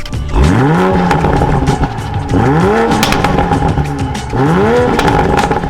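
An A90 Toyota Supra exhaust with the stock downpipe revs three times, each a sharp rise and fall in pitch with a throaty rumble between, loud and nearby.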